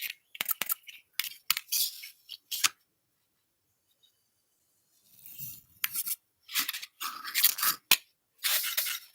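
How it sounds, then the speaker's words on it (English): Scissors cutting paper for bookbinding, close and quiet snips and rustles in short bursts, a pause in the middle, then more rapid cutting. "And now I am going to go with scissors."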